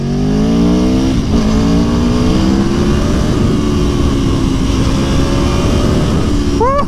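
A motorcycle engine drones loud and close, pitch climbing as it accelerates then holding a steady roar, with a brief rev flick at the end.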